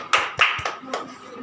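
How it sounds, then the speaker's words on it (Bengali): Three or four quick hand claps ring out sharply at a breastfeeding awareness debate session in an anganwadi centre, with faint murmuring between them. "হাততালি দাও"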